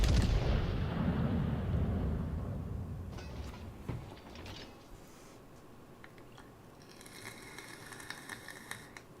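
Battleship main guns firing in a naval video game: a heavy booming blast at the start that rolls and decays over several seconds, followed by fainter scattered impacts and rumble.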